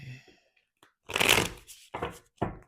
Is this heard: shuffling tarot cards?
yes